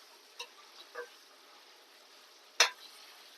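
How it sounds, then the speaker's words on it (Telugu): Raw prawns spitting and popping in hot oil, with a few sharp crackles scattered over a faint steady sizzle, one louder pop standing out near the end. "రొయ్యలు కూడా పేలుతూ ఉంటాయి రోయ్, కొంచెం మనం బహు జాగ్రత్తగా ఉండాలన్నమాట"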